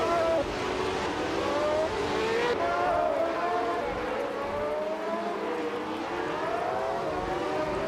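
Race cars, among them a classic 1971 McLaren M19A, roar off the starting line with loud, continuous engine whine that rises in pitch as they accelerate, under a faint voice.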